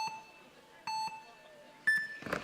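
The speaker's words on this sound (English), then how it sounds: "So we wait for the buzzers now." Start buzzers at a speed climbing final in Chamonix give a sequence of clear electronic beeps, two short ones followed by a longer tone, with crowd noise swelling at the end.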